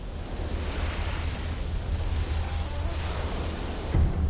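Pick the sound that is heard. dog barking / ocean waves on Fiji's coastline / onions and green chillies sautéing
ocean waves on Fiji's coastline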